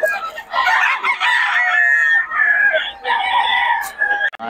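A stag rooster crows loudly and up close at a market, with clucking and other fowl sounds around it and voices faintly in the background.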